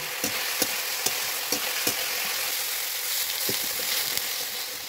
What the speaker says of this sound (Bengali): পেঁয়াজ এবং মশলাগুলোকে ভালোভাবে কষানোর জন্য আমি এখানে একটু সামান্য পরিমাণে জল দিয়েছি।